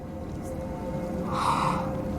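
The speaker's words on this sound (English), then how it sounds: "It's breathing." A creature in the dark fantasy video game Hellblade takes a heavy, rasping breath. The close, breathy swell rises near the end of the clip over a low, steady ambient drone.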